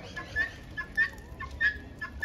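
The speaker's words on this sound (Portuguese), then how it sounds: "A galinha da Angola cantando Tô Fraco ali." A helmeted guinea fowl calls on a Brazilian poultry farm, sharp repeated shrill cries at a quick irregular rhythm, fairly close, over a soft rumbling background.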